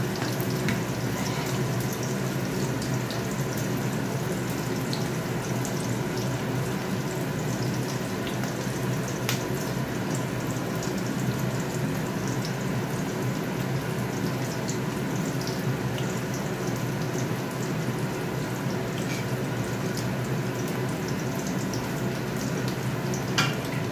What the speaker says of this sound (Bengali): এবার আলুটাও দিয়ে দেবো, এই চিকেনটাও দিয়ে দেবো। আগে একটু মশলাটা কষিয়ে দিই।